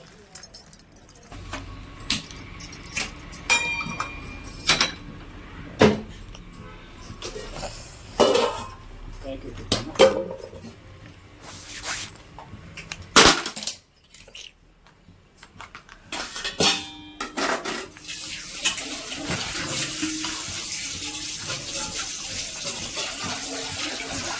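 Lentil vada batter being mixed with rice flour in a bowl, with irregular clinks, scrapes and wet slaps from hand and utensil against the bowl under intermittent room noise.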